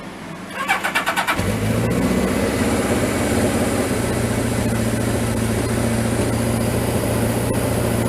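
A Suzuki GS1000 motorcycle engine cranks with a few rapid chugs, catches, and settles into a steady, rumbling idle nearby.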